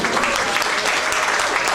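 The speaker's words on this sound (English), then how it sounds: "Ladies and gentlemen, give Len a round of applause." Audience applause at a 90th birthday party, a dense, steady wash of clapping that fills the room for the whole stretch at an even, close level.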